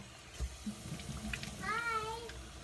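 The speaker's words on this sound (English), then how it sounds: "I'm gonna rinse this off now." Water runs from a tap while face cleanser is rinsed off at a sink, a soft steady flow with low bumps and splashes, quiet and close.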